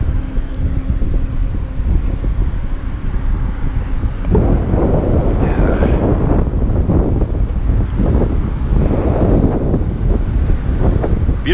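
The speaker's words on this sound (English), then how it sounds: "Really windy." Strong wind sweeps across an open farm field during corn harvest, buffeting the microphone with a loud, continuous roar and low rumble that grows heavier partway through, with no talking.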